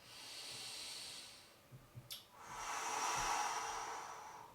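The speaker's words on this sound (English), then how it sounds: "Big inhale. Big exhale. 3 good breaths." Deep breathing during a stretching exercise in a workout class, a long airy inhale, a brief pause, then a longer, louder exhale.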